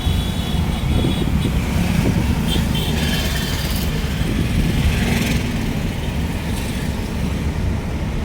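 A car engine drones steadily as it drives up a slope in traffic during a driving lesson, a continuous close hum with mild swells and road noise, with an instructor talking over it.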